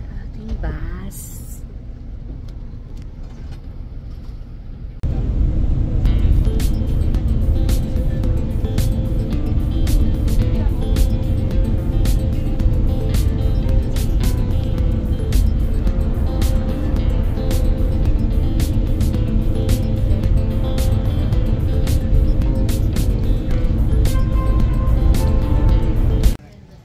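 Low engine drone and road rumble fill a bus interior on the way to Shinjuku, steady and close throughout, with short ticking clicks and some voices talking over the hum.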